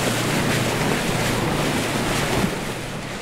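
Motor boat driving across water in a video game, a steady rushing wash of water and wind noise with a faint engine drone underneath, continuous throughout.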